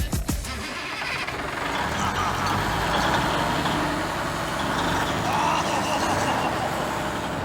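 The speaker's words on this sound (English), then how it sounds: "A 1955 Peterbilt that is still working it." A 1955 Peterbilt truck still in farm service, its engine running with a steady, loud diesel rumble close by, after a brief rough start at the beginning.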